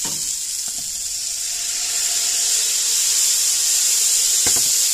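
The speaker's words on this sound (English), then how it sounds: "I'm going to add those blanched potatoes. Put them in there. And the broccoli." Blanched potatoes and broccoli go into a hot soup pot, giving a steady close sizzle and hiss that builds slightly, with a couple of sharp clinks from the food or utensil hitting the pot.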